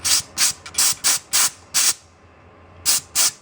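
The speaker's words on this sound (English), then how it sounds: "clean this board out with a little bit of compressed air" Short bursts of compressed air blast dust out of a Surface Pro Gen 1 circuit board, about six quick hissing sprays in a row, a pause, then two more, loud and close.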